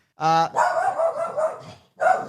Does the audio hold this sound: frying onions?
no